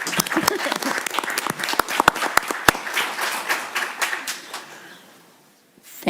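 Applause from a crowd at a board of trustees meeting, dense clapping with a few sharp louder claps standing out, dying away to near silence at the end.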